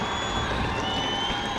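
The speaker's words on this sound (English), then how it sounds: "And you can hear the South Lyon crowd." A South Lyon crowd cheers at an indoor hockey game after the first goal, heard as a steady, distant roar of many voices blended with the arena's reverberant hum.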